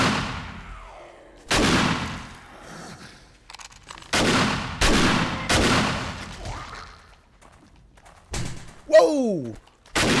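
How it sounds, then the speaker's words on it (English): Heavy shotgun blasts in the video game 7 Days to Die, several loud booming shots spaced a second or two apart with decaying tails, ending in a final blast mixed with a sharp yelp. "let's pull out the shotgun"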